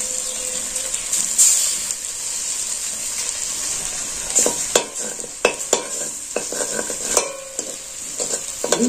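An egg stirred and fried with boiled potato in a pan, with a steady sizzle under clustered spatula scrapes and taps that grow more frequent toward the end.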